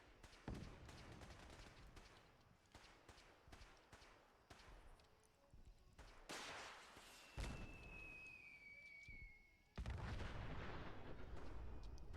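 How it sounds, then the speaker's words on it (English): Fat Man launcher blasts in the game Fallout 4, a string of loud booming detonations and sharp cracks in bursts, with a whistling streak midway and a heavy final blast. "Somebody has a Fat Man launcher over there."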